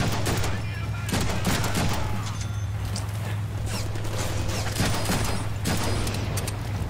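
Heavy gunfire in the Deadpool video game, dense overlapping shots and bursts over a constant low rumble, with several sharper cracks standing out and a voice briefly audible underneath.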